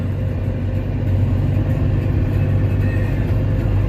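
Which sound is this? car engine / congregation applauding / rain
car engine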